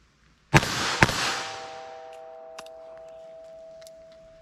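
.22 Magnum revolver fired at a target, two sharp loud shots half a second apart with a ringing tail, then a faint metallic clink.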